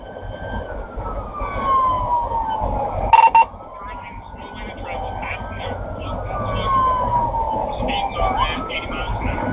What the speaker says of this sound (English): With their emergency lights and sirens blaring, chased Barclay for a significant distance